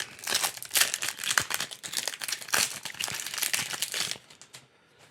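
A Dominaria United draft booster pack's foil wrapper being torn open and crinkled up close, in dense bursts of crackling crumple that fade to quiet at the end.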